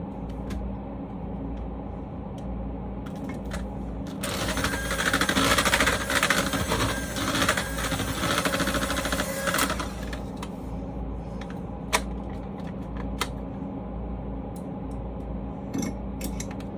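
An electric mixer whirs steadily through chocolate fudge cake batter in a home kitchen for a long stretch, its beaters clattering against the bowl, with no talking.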